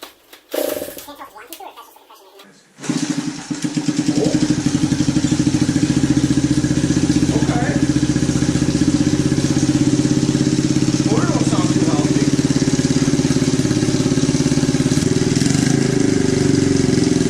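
A Honda Z50 minibike engine on choke sputters to life after a few seconds, then runs loud and steady at a fast, slightly rough idle; a voice is briefly heard early on.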